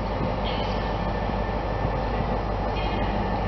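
Train 43366 passes through Newton Abbot station. A steady, moderately loud rumble of rolling wheels carries throughout, with faint squeals and a hum on top.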